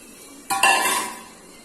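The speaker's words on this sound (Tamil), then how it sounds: "நல்லா மிக்ஸ் பண்ணி விட்டுறலாம்" A spoon clatters and scrapes against a pan while chow chow butter masala is mixed, one sudden burst of clinking metal that settles into a softer scraping wash, close and alone.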